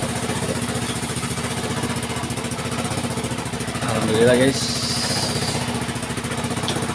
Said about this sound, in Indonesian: Motor ini sudah hidup tanpa aki